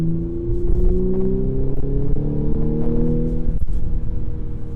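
A 2015 Audi S5 engine runs steadily up close, a loud, smooth low hum with a faint rise in pitch as revs climb slightly, continuous and alone.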